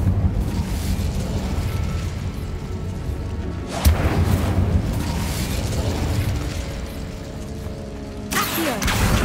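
A fire spell cast in Hogwarts Legacy gives a booming, eruptive burst of flame that roars on for several seconds, with a second sharp burst near the end.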